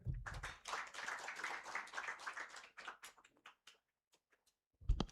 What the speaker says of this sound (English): Let's give a bigger round of applause to Code Academy